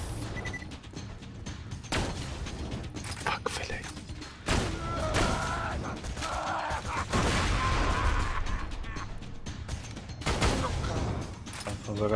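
Gunfire in the video game Borderlands 2, with repeated sharp shots and thuds scattered through the scene under ongoing game sounds, while players talk over it.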